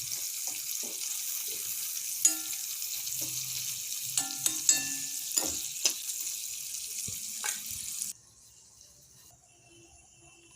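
Eel fish sizzles as it fries in a pan and is stirred at intervals, scraping and clinking over a steady hiss that drops off sharply toward the end.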